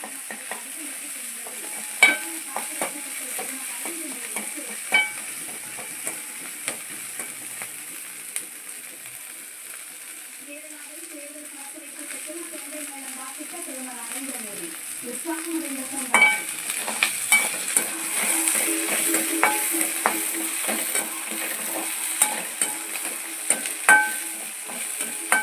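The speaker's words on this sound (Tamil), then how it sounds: "வெள்ளைப்பூடை வதக்கிட்டோம்" Garlic sautes in a pan for a pirandai thuvaiyal, a low steady sizzle under repeated scraping and clicking of a stirring spoon, growing a little busier toward the end.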